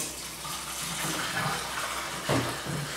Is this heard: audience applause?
no